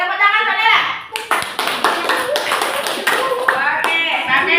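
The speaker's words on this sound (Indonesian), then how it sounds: "tepuk tangan Mbak Nela." Children in a classroom clap their hands in a short burst of sharp, close claps following a voice, with an adult speaking over the end of it.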